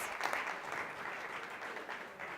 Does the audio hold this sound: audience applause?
yes